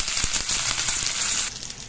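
Dried red chillies, ginger and curry leaves sizzling and crackling in hot oil, a steady close fry with small pops throughout, no talk.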